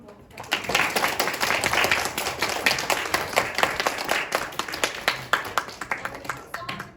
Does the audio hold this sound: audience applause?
yes